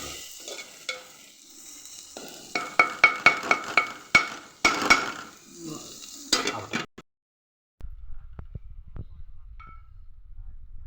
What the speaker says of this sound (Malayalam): നമുക്കിത് ഇഞ്ചിയും വെളുത്തുള്ളിയും ചതച്ച് വെച്ച് അതിടാം. നന്നായി ഒന്ന് ഇളക്കി കൊടുക്കാം.